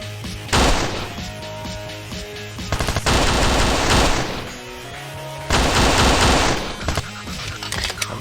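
Automatic gunfire in the first-person shooter Kshatriya: Prologue, built in FPS Creator, comes in long loud sustained bursts of rapid shots separated by short gaps, with scattered single cracks between them.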